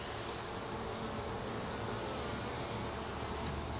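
Honey bees buzz steadily and continuously around an open top bar barrel hive during an inspection, a dense, even drone close by with no talking.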